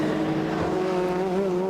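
A saloon race car, the BMW 330i numbered 31, drives steadily past on a circuit, its engine a continuous loud drone with a slowly shifting pitch. No one speaks.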